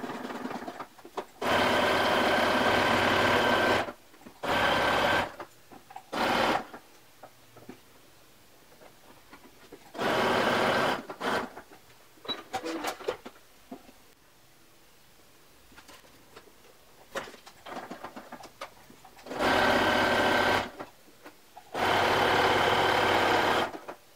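A sewing machine stitches a twisted t-shirt hem in several loud, steady bursts of whirring, separated by short pauses and quieter handling noises, with no talking.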